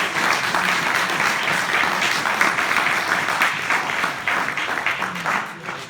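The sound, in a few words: audience applause after a Q&A talk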